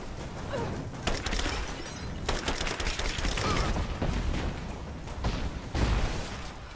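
Gunfire and explosions in Rise of the Tomb Raider come as dense bursts of rapid shots and booming blasts, loud and continuous through the scene.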